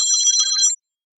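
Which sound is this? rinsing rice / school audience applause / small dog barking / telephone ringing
telephone ringing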